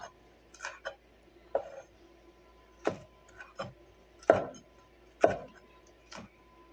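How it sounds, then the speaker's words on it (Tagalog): A knife slices a peeled onion lengthwise on a board, producing about ten sparse, crisp cuts spaced irregularly over a quiet background. "Ayan, hihiwa muna ng pahaba"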